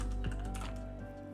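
Computer keyboard keys tapped in a short quick burst of clicks, close and fairly faint over a steady low hum, with no voices.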